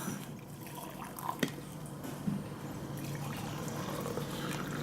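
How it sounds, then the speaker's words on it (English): Coffee pours into a cup indoors in a quiet room, a soft continuous liquid trickle with a couple of small clinks near the start. "Can I pour you a cup of coffee?"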